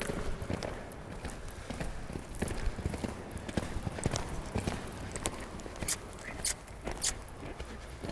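Hooves of a horse at a natural gallop during a riding lesson on a slope, a steady rhythmic clip-clop close by with sharp irregular strikes throughout, no talk.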